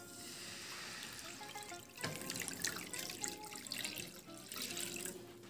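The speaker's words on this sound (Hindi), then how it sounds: "थोड़ा सा इसमें हम पानी डालेंगे।" Water running and splashing into a pan set on a gas stove, a continuous soft pour with a louder gush partway through, close and alone without talk.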